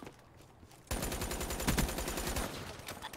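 Rapid automatic gunfire in the video game Black Ops 3 breaks in suddenly after a quiet start and keeps going as a dense, loud burst of shots to the end.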